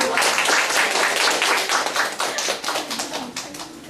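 A room of parents at a school information session claps together, a loud, quick patter of many hands that holds steady for a few seconds, then thins slightly toward the end.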